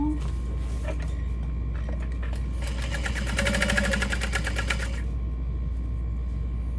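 Sewing machine top-stitching the side panel of a leather-trimmed barrel bag, a quick, even burst of needle strokes running about two seconds over a steady low hum and faint room noise.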